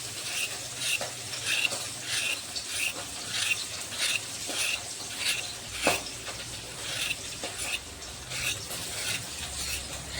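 Pointed gourds (potol) being scraped by hand to strip their skin, a steady run of soft, rasping strokes that repeat close by and at a moderate level, with no talking.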